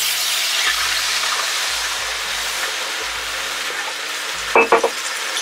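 Beer poured into a hot pot while cooking turkey legs in dark beer sauce, sizzling steadily and loudly up close as the alcohol cooks off, with a brief clatter near the end.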